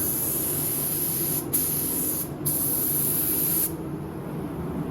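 Spray can laying a light dust coat of paint onto an RC car shell, a loud close hiss in three bursts separated by brief pauses, then quieter background.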